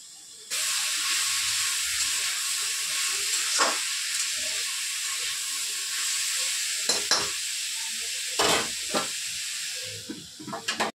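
Whole green chillies stir-fried in a pan for vegetable chow mein with winter vegetables: a constant loud hiss of oil sizzling, broken by a few scraping strokes of a metal spatula near the end.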